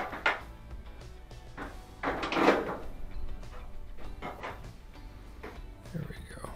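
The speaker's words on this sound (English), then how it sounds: "you'll just line up the door with the housing and press forward" An LG dryer door is pushed into its housing, giving a few close plastic-and-metal knocks and a scraping thud of fitting panels, with some handling rustle around it.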